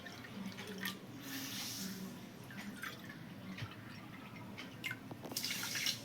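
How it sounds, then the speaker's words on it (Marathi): Water pours and splashes into a cooking pot, measured out by the bowlful for balushahi sugar syrup, in uneven bursts, with drips and gurgles, quiet and close. "चार वाटी मी पाणी टाकणार आहे"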